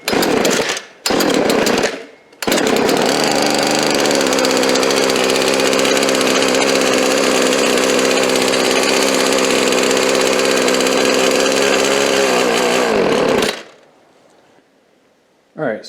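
A cold gas string trimmer engine catches after short pull-start bursts, then runs loud and steady at a high buzzing idle before shutting off.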